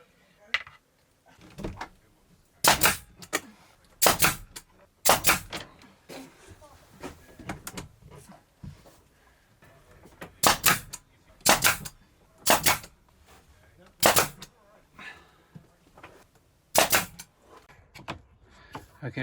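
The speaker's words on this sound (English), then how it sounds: "we're going to take the nail gun and nail everything down in place" Pneumatic nail gun firing nails into poplar strips to hold a glued DIY window frame in a camper van, sharp loud bangs scattered irregularly in pairs and singles over a faint background hum.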